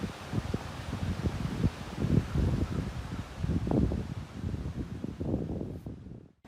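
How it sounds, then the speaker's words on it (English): Wind gusts outdoors among dormant trees beside a stream, with low rumbling buffets on the microphone and a soft rustle, rising and falling irregularly at moderate loudness with no speech. "And there's a lot of wind"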